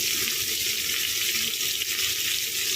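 Green chillies frying in hot oil for a curry, a steady bright hiss of sizzling that runs unbroken and fairly loud from start to finish, with no voices.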